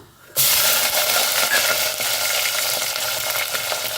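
Curry leaves hit hot oil in a tempering for a fish curry, bursting into a sudden loud sizzle that holds steady as continuous crackling frying, with no talk.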